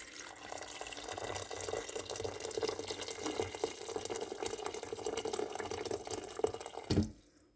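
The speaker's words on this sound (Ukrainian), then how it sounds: "мультиварці додаю водичку кип'ячену, гарячу із чайничка" Hot boiled water poured from a kettle into a multicooker, a steady close trickling stream lasting several seconds before stopping abruptly with a small clunk.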